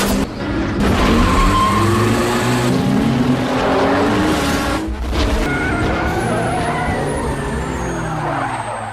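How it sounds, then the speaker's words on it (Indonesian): Cars racing in a movie street-race scene, with loud engines roaring and revving, tyres screeching and vehicles sweeping past in a dense, continuous wash of noise. "Dalam adu balap itu, Brian ternyata harus mengaku kalah dengan Dom"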